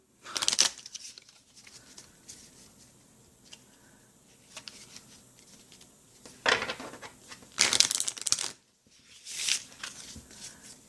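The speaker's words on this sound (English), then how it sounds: "it's just a typical playing card size and playing cards cardstock. So very easy to shuffle, very easy to handle." Cardstock cards the size of standard playing cards are shuffled by hand up close, producing several short, crisp riffling bursts separated by quiet pauses, with no talking over them.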